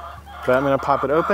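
A Buff Orpington hen in a backyard coop gives a quick series of close, loud clucks while a person talks nearby.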